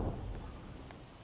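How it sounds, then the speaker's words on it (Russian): Steady rain hisses in Project Zomboid, a dense, even wash of patter with low rumble beneath, continuous and fairly loud with no voices. "Пошел дождь."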